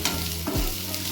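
Onions and green chillies fry in a pan for chilli pork, with a brief stir scraping through a steady close sizzle over about a second.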